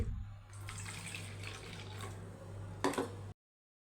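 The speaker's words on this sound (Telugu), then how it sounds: "నాలుగు గంటలు ముందుగా నానబెట్టిన వాటిల్లో నుంచి నీళ్ళన్నీ వంపేసుకొని" Water is poured off soaked lentils, a short close trickle and splash lasting about three seconds with a brief louder gush near the end before cutting to silence.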